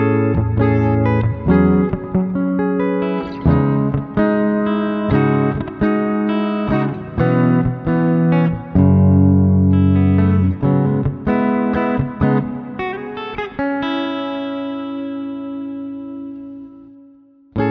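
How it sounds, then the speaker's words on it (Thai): Solar Type A seven-string electric guitar on a clean tone with the bridge pickup, coil split, playing chords and picked notes with sustained ringing, a final chord decaying into silence before a brief closing strum. "อันนี้เนี่ยผมเล่นเสียงคลีนก่อนนะครับเป็นพิกอัพตัวล่างกับตัวล่างตัดคอยนะครับ"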